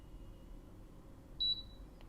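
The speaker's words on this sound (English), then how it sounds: "It might be a little bit noisy with all the beeping" An Instant Omni Plus air fryer toaster oven gives a single short, clear electronic beep partway through, standing out against a low, steady background hum.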